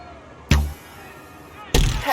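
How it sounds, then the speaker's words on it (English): In an Olympic archery video game, arrows strike the target board twice, each a sudden heavy thud with a short resonant tail, separated by about a second of quiet ambience. "Thuds into the board."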